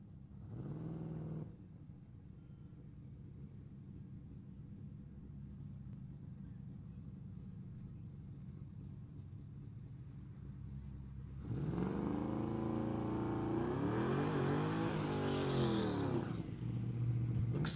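A GTR with a 4.1-liter engine and a Mustang launch at a small-tire drag race at Tucson Dragway; a low idle rumble gives way to a loud, rising roar of revving engines that sweeps up and cuts off, alone.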